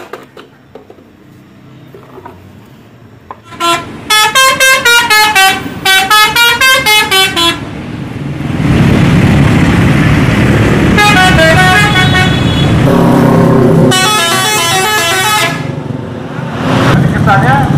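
Bus horns from Indonesian intercity buses such as Sinar Jaya and Budiman honk in long, loud, melodic multi-tone blasts, with a rumbling engine between bursts and some talk around them.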